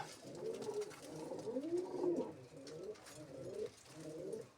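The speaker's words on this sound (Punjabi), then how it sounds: "ਆਹ ਕਬੂਤਰੀ ਆ" A female pigeon coos near a rooftop loft in a low, throaty, repeated burble, the soft phrases running steadily for several seconds with brief dips between them and no talking.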